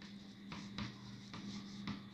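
Chalk or marker writes on a board during a science lesson, with short scratchy strokes in a steady rhythm and quiet room hum beneath.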